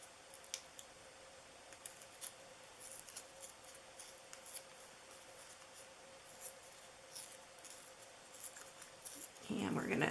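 Paper strips torn by hand for a Halloween mummy treat box: soft, quiet rustling through most of it, ending in a louder, crisp rip.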